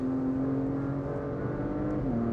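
A 2022 Porsche Macan GTS's six-cylinder turbocharged engine burbling steadily at close range, a loud continuous drone with a slight drop in pitch near the end.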